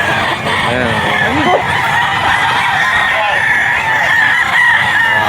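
A fighting rooster crows loudly and close at a busy pet market, with one long rising crow and clucking from other fowl over a steady, noisy crowd background.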